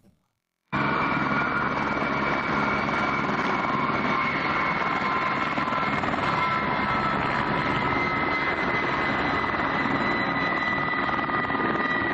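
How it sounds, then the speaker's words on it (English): A massive aircraft takes off, its engines roaring steadily and loudly after a brief quiet start, with a sustained whine layered over a broad rumble that holds for the whole stretch. "The pilot is showing off his skills while taking off with this massive aircraft."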